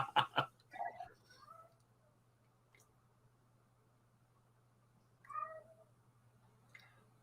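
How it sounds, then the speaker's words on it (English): A cat cries with a few sharp, close meows in a quick burst at the start, then falls quiet over a low steady hum before one more short plaintive meow near the end. "Yeah, I hear a cat crying."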